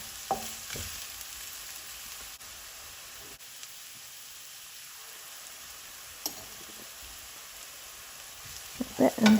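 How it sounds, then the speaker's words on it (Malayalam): Onions, with spring onion bulbs, frying in hot coconut oil for a chicken samosa filling, giving a low steady sizzle throughout with a few faint stirring clicks and a louder clatter near the end. "വെളിച്ചെണ്ണ ചൂടായി കഴിഞ്ഞപ്പോൾ സവാള ചേർത്ത് കൊടുക്കുക"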